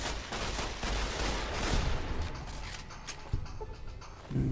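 Gunfire in Fallout: New Vegas rings out as a dense, sustained fusillade of loud shots. A heavy crack lands near the end.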